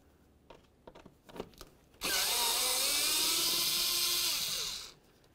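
A power drill with a T25 Torx bit backs out a mounting screw on a 2001–2006 Silverado 2500 HD: a few light clicks and taps, then a loud, steady high whine for about three seconds before it winds down.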